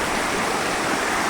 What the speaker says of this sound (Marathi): बघू शकता, खूप मोठ्या प्रमाणात एकदम खळखळ अशी नदी वाहते.